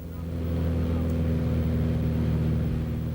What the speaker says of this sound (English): Gary Pogany's Cessna swings low over the waters of Lake Clark and Lake Iliamna to the west.